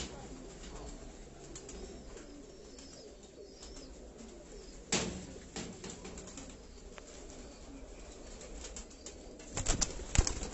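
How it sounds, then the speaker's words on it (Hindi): Khaki kamgar breed pigeons cooing softly in a loft, low murmuring calls running throughout, with a sudden burst of wing flapping near the middle and another flurry of flaps and rustling toward the end. "खाकी कमगर ब्रीड के ये कबूतर"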